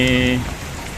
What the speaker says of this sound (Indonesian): nampak hujan cukup deras